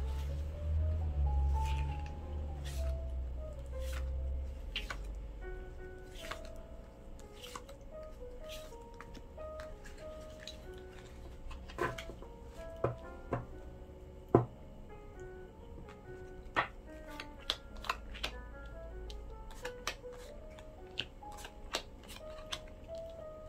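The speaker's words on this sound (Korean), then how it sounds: "카드 열어 보겠습니다" Picture cards being flipped over one by one on a table for a tarot-style reading, light separate ticks and taps spread irregularly across a quiet background with a low music bed, no voice.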